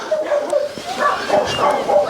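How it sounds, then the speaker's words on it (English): Several dogs bark and yip at a moderate distance in Cromarty, Scotland, short overlapping bursts scattered across the moment, with a faint high whimpering tone mixed in. "you can hear the dogs are barking at me there"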